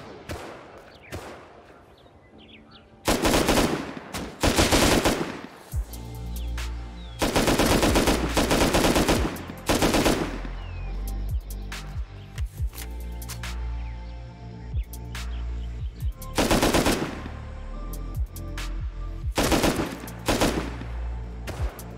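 Automatic gunfire in the video game Rust Console Edition on Xbox, loud close bursts of rapid shots repeating in several volleys with short gaps between them.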